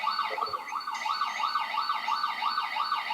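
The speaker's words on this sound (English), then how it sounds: "where we just want to identify the siren" An emergency vehicle siren wails in steady rising and falling cycles, moderately loud and isolated from music after processing of vibration-sensor and MEMS-microphone signals, with no other sound behind it.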